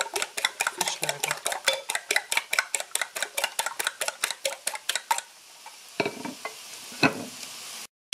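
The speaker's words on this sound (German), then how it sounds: "In einer Schüssel habe ich jetzt die Eier aufgeschlagen, Salz, Pfeffer dazu gegeben und sie werden ganz einfach mit der Gabel gut geschlagen." A fork beats eggs seasoned with salt and pepper in a bowl, giving a quick, steady run of clicking strokes for about five seconds, then a few scattered scrapes and taps.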